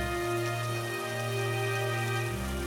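Stormy rain falls steadily, a continuous hissing wash of drops alone with no voices, steady and fairly loud for the whole short stretch.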